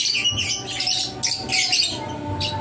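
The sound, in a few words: young green pet bird chirping and squawking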